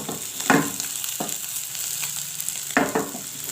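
Chicken tikka boti sizzles in a pan over a low flame with a steady, close frying hiss, broken by a few sharp clatters of stirring.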